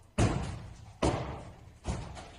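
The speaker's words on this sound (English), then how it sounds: "this is police knocking on the door to get in." Police officers pound on a classroom door in a played-back recording, three heavy, hard knocks spaced about a second apart, loud and close with a thudding, slamming quality.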